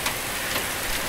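Heavy storm rain pours down across southern Colorado, with pea-sized hail in the area, as a dense, loud, continuous wash of rain striking surfaces nearby.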